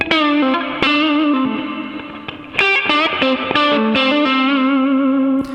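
Distorted electric guitar chords with reverb but no EQ ring out with a washy reverb tail, several strums and held notes played alone, full and bright.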